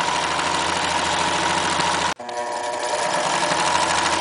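A sewing machine runs in a fast, steady whirring rattle while stitching a ruffle of broderie anglaise on a rag doll. It stops for an instant midway, then starts again. No one speaks.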